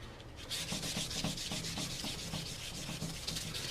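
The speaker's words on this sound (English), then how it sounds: "We're going to sand it down." 400 grit sandpaper is rubbed back and forth over a wooden gunstock in quick, steady strokes, making a soft, close, rhythmic scratching with no talking.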